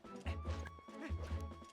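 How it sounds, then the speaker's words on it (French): Horse in the video game Zelda Twilight Princess HD, with game sounds including hoof-like thuds and a horse-like call over a steady musical background, moderately loud and alone. "Mon cheval nous attend là-bas."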